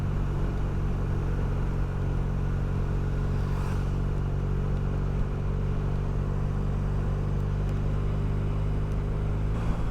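Motorcycle riding along a road in rainy weather in France, a steady low engine rumble with constant wind and road noise throughout, close and unbroken, with no talking.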